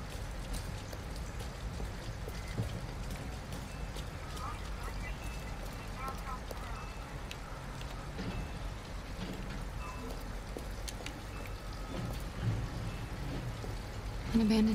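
Steady rain falling outdoors near an abandoned house in Detroit: Become Human, a constant hissing patter throughout, with voices talking over it.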